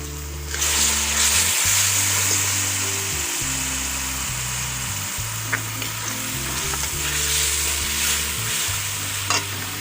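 Tomato paste goes into a hot pan with potato and capsicum, setting off a loud, continuous sizzle and frying hiss, with steady stirring scrapes layered over a droning hum throughout.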